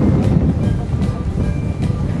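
Strong wind buffets the microphone at a rocky seaside geopark in Keelung, Taiwan, producing a loud, continuous low rumble with gusty surges and no speech.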